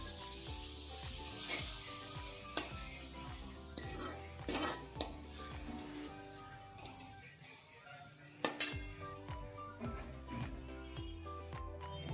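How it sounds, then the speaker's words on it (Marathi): A spoon scrapes and clinks against a metal pan as safflower-leaf greens are stirred, with intermittent sharp knocks over a soft sizzle and faint background music. "भाजी घालू आणि व्यवस्थित हालवून घ्यायची ही भाजी"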